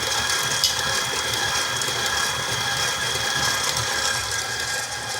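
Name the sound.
electric mixer creaming sugar for molasses cookie dough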